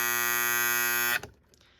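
A Telechron Tela-Alarm Jr. clock alarm, a GE design with a pole pushing against a buzzer plate, gives a loud, steady, harsh electric buzz that cuts off abruptly after about a second, leaving faint mechanical rattles.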